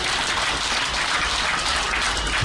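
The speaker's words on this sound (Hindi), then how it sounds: "एक बार जोरदार तालियां बच्चों के लिए।" Loud, dense applause for children from a gathered audience at a religious discourse, steady and continuous throughout with no talking.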